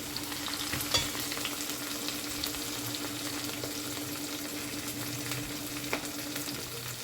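Ginger garlic paste frying in oil in a pan, a steady close sizzle with occasional stirring scrapes throughout, no talking.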